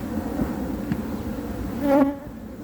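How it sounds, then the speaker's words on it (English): A dense, steady buzz of many bees swarming close by a hive, with a brief louder drone as one passes near the microphone. "Quite a lot of bees though."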